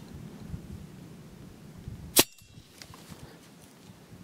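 A single sharp, loud shot cracks out from an EDgun Leshiy 2 .30-caliber air rifle, followed by a brief ringing tail, over a quiet background hum.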